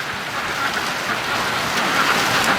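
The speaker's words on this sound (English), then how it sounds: "Today's the big rain day." Heavy, steady rain pours down in a dense broadband hiss, loud and continuous with no voices.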